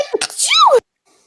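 A single close, sharp sneeze with a rising and falling voiced burst, followed by silence.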